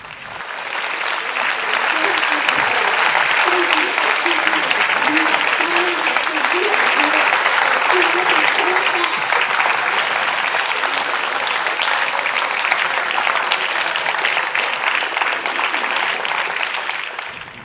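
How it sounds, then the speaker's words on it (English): Traders at the Tokyo stock exchange applaud as Japan's Nikkei hits a record high, a loud, dense and sustained roar of clapping with a crowd's murmuring voices faintly underneath. "Traders in Tokyo even broke out in applause."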